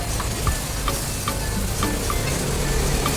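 An egg broken into a pan of frying onions for kothu parotta sizzles loudly and steadily up close, with a few light stirring taps over the hiss and no talking.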